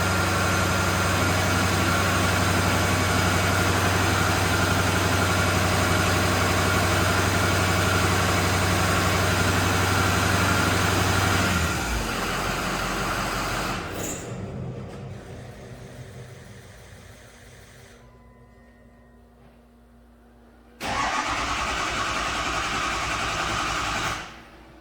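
A 2006 Ford F250 with a 6.0 diesel engine runs a long, steady, loud drone during a compression test, fades and drops away, then briefly resumes at full level before cutting off.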